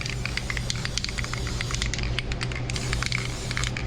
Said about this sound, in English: Now we're going to spray our disc brake quiet.